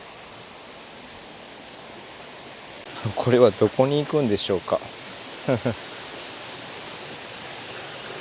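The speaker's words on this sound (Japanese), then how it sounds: "こんな感じの川になってるんですけど" Steady broadband rush of a river flowing through a mountain gorge near a remote hot spring inn in Ehime, continuous throughout, with a person speaking briefly over it in the middle.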